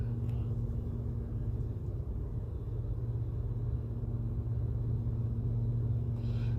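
A roulette wheel spinning with the ball circling its track, heard as a steady, continuous low rumbling whir that holds even throughout with no voices.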